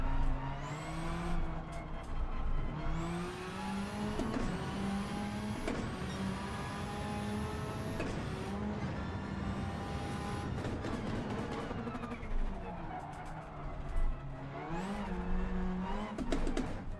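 Race car engine from Gran Turismo 7, a loud, continuous high revving whine that rises and falls with gear shifts and braking throughout.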